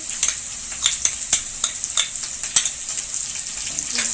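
Garlic-ginger paste sizzling and crackling in a hot pan, with sharp scattered pops over a steady hiss and no talking.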